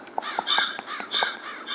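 A crow in a low-budget shadow video game caws several times in quick succession, loud and close, standing out clearly over a quiet background.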